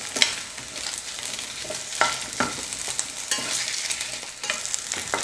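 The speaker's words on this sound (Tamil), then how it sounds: "இப்போ இது எல்லாத்தையும் சேர்த்துட்டு ஸ்டவ்வை லோ ஃப்ளேமில் வச்சுக்கிட்டு 2 நிமிஷத்துக்கு நல்லா வதக்க போகிறேன்" Chutney ingredients sauté in a pan over a low flame, a steady close sizzle with repeated spatula scrapes and knocks against the pan at irregular intervals, and no talk.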